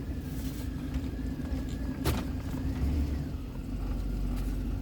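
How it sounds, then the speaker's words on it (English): On a cold start, a truck engine fitted with a Brian Tooley Racing Truck Norris cam idles slightly high. It gives a steady, continuous low rumble at moderate loudness, with no speech. "idle's still a little high because it's still a little cold"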